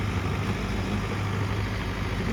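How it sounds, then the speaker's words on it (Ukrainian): A tractor working in a small park in the Botanica district of Chisinau, giving a steady low engine rumble that runs unbroken throughout at moderate distance, with no talk. "Тут з самого ранку воно вже працює трактор"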